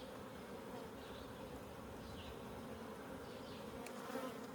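Honeybees swarm and buzz around an open hive during a health check, a dense, steady drone that holds without a break and with no voices over it.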